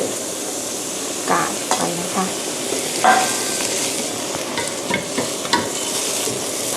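Carrots and bamboo shoots stir-fried with black tofu in a vegetarian dish, a steady sizzle under occasional scraping and stirring clinks, close and moderately loud, with no one talking.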